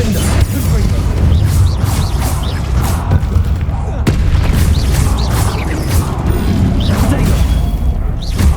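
A Confringo fire-blast spell in a Harry Potter video game bursts through a dense, loud mix of booms and crashes, with game music and effects running continuously underneath.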